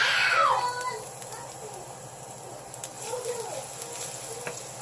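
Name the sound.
sautéing for pork sisig in a pan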